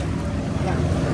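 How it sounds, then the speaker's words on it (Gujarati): A boat arrives at Shivrajpur Beach near Dwarka, Gujarat, with a loud, steady rumble of engine, wind and surf and faint voices mixed in. "તો આપણી બોટ આવી છે"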